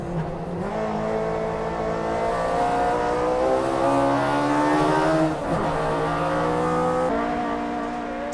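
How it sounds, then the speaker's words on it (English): Toyota AE86 race cars scream around Tsukuba circuit, a loud, sustained engine drone rising and falling in pitch as they accelerate and shift, with another car briefly passing close by. "the Annex Hachiroku passes Ishii at first corner entry."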